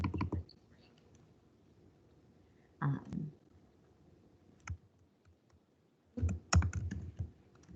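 Typing on a computer keyboard comes in short clustered bursts of close clicks separated by quiet pauses, with no talking.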